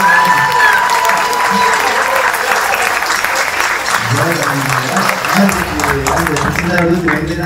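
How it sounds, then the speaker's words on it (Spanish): Concert audience applauding a multi-instrumentalist musician at a symphonic concert, loud continuous clapping filling the room, with voices beginning to talk underneath toward the end. "un aplauso"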